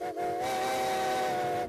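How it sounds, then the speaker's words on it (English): A steam locomotive sounds one long, steady whistle, a loud, sustained tonal blast lasting nearly two seconds with no talking. "Every time the toot of a steam locomotive's whistle fills the air"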